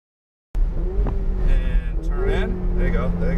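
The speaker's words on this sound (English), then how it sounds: "Roll onto the throttle and full throttle." A Ferrari 488 GTB on the Gingerman track, its engine note rising as the throttle rolls open to full, a loud close-up roar climbing in pitch over a few seconds with no voices over it.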